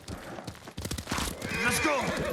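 A horse in Ghost of Tsushima gives a loud, wavering whinny close by, following a few hoof clops and a burst of movement.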